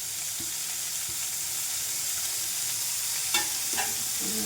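Onions sautéing in a pan for a home-style Tamil dish, a steady soft sizzle with a couple of brief stirring clatters near the end, close and alone with no voices.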